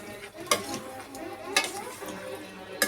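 Chicken sukka, Bangalore style, being stirred in a pan with a few sharp spoon-on-metal scrapes and clinks spaced through a soft, steady background of cooking noise.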